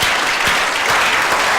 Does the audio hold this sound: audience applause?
yes